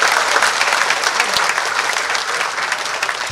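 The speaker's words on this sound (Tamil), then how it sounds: "நல்ல கைத்தட்டு கொடுங்க அவருக்கு" Sustained audience clapping at a film audio and trailer launch event, a dense even patter of many hands throughout, moderately loud and close.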